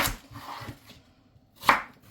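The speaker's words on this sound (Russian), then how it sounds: "Нарезаем мелкими-мелкими кубиками." Sharp knife strokes on a cutting board finely dicing carrot and onion, a few quick chops spaced apart with pauses, close and moderately loud.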